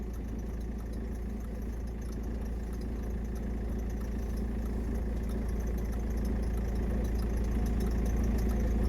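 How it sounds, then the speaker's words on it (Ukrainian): A car engine idles steadily during a roadside police traffic stop, a low continuous rumble that stays even and fairly quiet for the whole stretch, with no voices heard. "транспортний засіб з заведеним двигуном"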